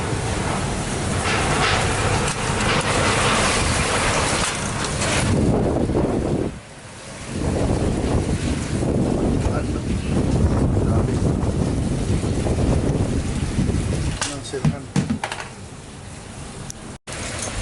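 Strong, roaring wind from Typhoon Odette at night blows continuously, gusting and whistling with a broadband rush that dips briefly before surging again.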